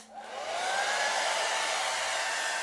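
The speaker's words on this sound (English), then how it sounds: "you can use a hairdryer to pop any bubbles that you see." A hair dryer whirs up and runs steadily at a loud, constant pitch, close by, with no talking.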